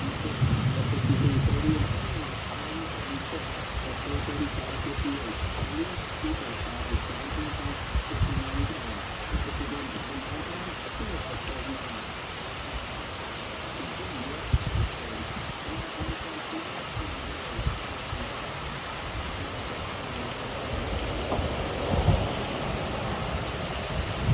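Strong, loud afternoon thunderstorm in Troy, Illinois: a continuous dense hiss of heavy rain fills the whole scene, with low rumbling swells and a few sharper cracks standing out.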